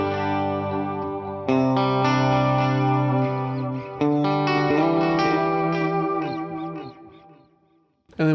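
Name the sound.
guitar with short reverb and delay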